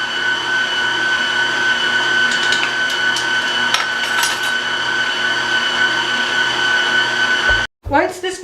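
Electric mixer whisking peanut butter cookie dough in a bowl, a loud steady whir with some knocking against the bowl, cutting out near the end.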